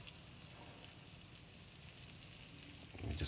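Saganaki cheese fries in a pan with a steady, fairly soft sizzle and crackle that holds throughout, swelling slightly louder at the very end, with no talking.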